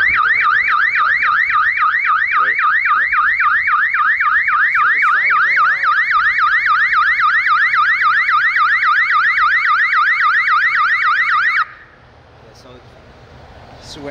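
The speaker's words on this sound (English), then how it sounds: "the siren will go off and the horn will go off" A motion-triggered alarm siren on a solar-powered security camera light mast wails loud and close in a rapid rising-and-falling sweep for about eleven seconds, then cuts off abruptly, leaving quiet background.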